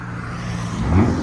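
A RAM 1500 pickup truck with a 3.6L V6 and aftermarket exhaust idles nearby, a low rumbling drone that swells slightly near the end of the short stretch.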